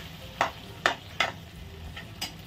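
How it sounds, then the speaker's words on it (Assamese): Local chicken with taro stem is stir-fried in a pan. Four sharp spatula scrapes land at uneven intervals over a faint, low sizzle. "এনেকৈ অলপ সময় ভাজিব লাগিব।"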